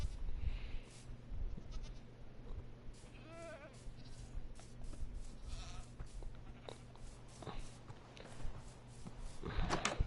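Goats in Minecraft bleating several times at scattered moments over steady game background hum, moderately close.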